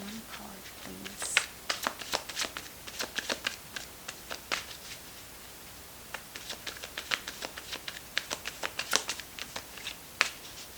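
Tarot cards being shuffled for a reading: a steady run of crisp riffling clicks and flutters in close bursts, brief pauses between runs, fairly quiet with no talking.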